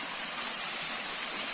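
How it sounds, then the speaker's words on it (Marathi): A natural water spring flowing at a scenic spot below a dam, a steady soft rushing and trickling wash, even and moderately faint over the whole moment. "पाण्याचा झरा आहे इथे"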